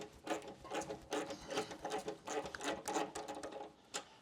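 Ratcheting wrench backing off the rear nut of a gas tank mount on a Harley-Davidson M8 Low Rider ST motorcycle, a close, steady run of rapid clicking bursts lasting several seconds with no talk.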